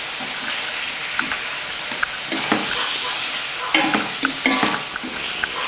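Prawns and mixed seafood sizzle steadily in a pan while being stirred, with scattered scraping clicks and utensil knocks over a constant close frying hiss.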